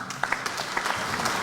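Delegates at a NARC-K party convention in Ufungamano House applaud their party leader, a scattered crowd clapping with a few sharper claps standing out over a continuous moderate patter.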